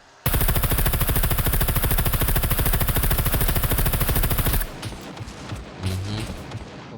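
In the survival video game SCUM, a pistol fires a dense, rapid string of loud, close shots for about four seconds before stopping. Quieter voices and background noise follow.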